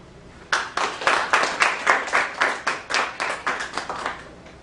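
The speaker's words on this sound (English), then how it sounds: "Let's give them a round of applause." A conference audience claps for the speakers on Kerala Catholicism, a bright, even round of applause that starts abruptly and pulses steadily for about four seconds.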